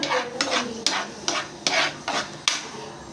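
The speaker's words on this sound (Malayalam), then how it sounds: "നമുക്കൊന്ന് ഇളക്കി കൊടുക്കാം. ഒരു വെള്ളമയമൊക്കെ വിടുന്ന വരെ നമുക്ക് വഴറ്റി കൊടുക്കണം." Tomato sauce is stirred and sautéed in a pan, giving about eight regular scraping strokes of a spoon against the pan, close and fairly loud, with no voices.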